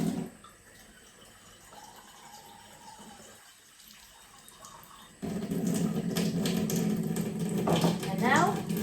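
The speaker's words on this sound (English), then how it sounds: "I'm going to fill the cup up with some Kangen water" Water runs softly at first, then pours louder and rougher into a cup for the last few seconds, with no speech.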